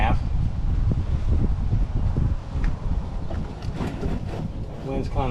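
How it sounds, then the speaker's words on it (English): Outdoor wind buffets the microphone with a steady low rumble during oil and air filter work on an Onan QG 4000 generator in a Jayco Greyhawk 30Z motorhome, and someone speaks over it. "The wind's kind of blowing towards me"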